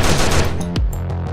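Rifle fire in a Skibidi Toilet horror video game, a loud, close burst of rapid shots that rings out and then fades.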